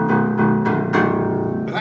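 Piano strings sounding in a run of closely spaced struck notes with rich ringing overtones, loud and near, with no talking.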